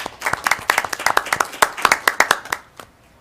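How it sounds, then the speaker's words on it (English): A small audience at a borough council meeting claps for award recipients, a few distinct hand claps building into a brief, moderately loud round that tapers off quickly. "So congratulations and a round of applause."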